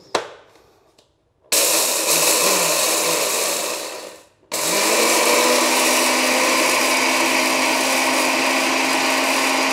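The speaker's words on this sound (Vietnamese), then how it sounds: "rồi sau đó thì mình sẽ đậy nắp lại, rồi sau đó thì mình xay gạo cho nó thiệt là nhuyễn ra" A kitchen blender grinds rice into a fine powder in loud, steady bursts: a short whir that cuts off, a longer run that stops, then a sustained high roar with no talking.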